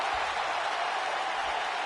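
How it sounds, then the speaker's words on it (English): A passionate crowd at a fight makes a continuous dense roar of cheering and applause, loud and steady throughout. "I don't remember the last time I heard a more passionate crowd"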